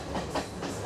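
A train rolling along rails through hill country past tea plantations, heard from an open carriage doorway as a muffled, rhythmic clatter and rumble, fairly quiet and brief.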